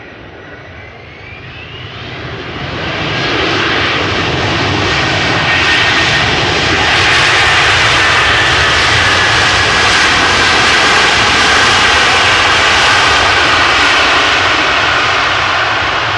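A 19-year-old jet airliner roars in close landing at Amsterdam Schiphol, then a loud sustained thrust-reverser rumble swells and holds steady, broad and powerful, with no voices.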